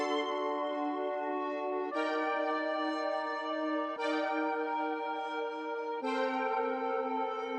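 A Moog synth preset plays sustained, richly layered chords with dense textures, changing chord roughly every two seconds across four steady blocks at even loudness, with no talking.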